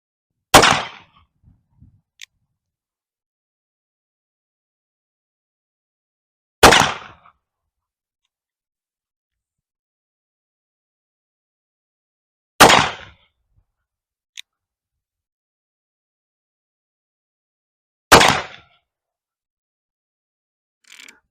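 Four loud, sharp black powder gunshots fired over a chronograph during velocity testing, spaced about six seconds apart, each followed by a brief decaying report, with silence between them.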